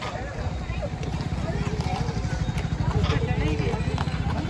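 Horse hooves clip-clop steadily on a roadside ride, a quick even rhythm close by, with people talking over it.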